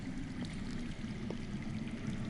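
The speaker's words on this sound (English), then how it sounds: "I hear water. From underground." Underground water flows and pours steadily in the Game of Thrones Telltale game, a continuous low rushing stream, muffled and constant, with no voices over it.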